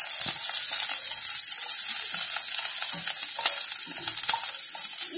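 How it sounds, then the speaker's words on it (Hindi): Green chillies lightly frying in a pan for pickle, a steady close sizzle with soft crackles and occasional stirring scrapes throughout, no voices. "इनको हल्का हल्का से सेकेंगे।"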